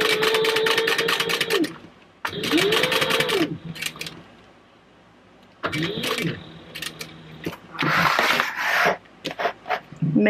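A sewing machine stitching a purse from a Mekaposh Kayla pattern runs in four separate bursts of fast whirring needle strokes, loud and close, with quiet handling pauses between runs.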